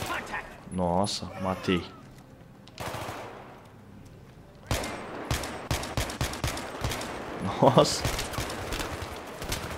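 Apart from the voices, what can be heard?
gunfire in video game Battlefield 3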